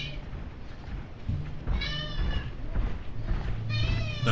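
A pet cat meows several times over a steady game-style background hum, the calls rising and falling with clear harmonics, close and moderately loud.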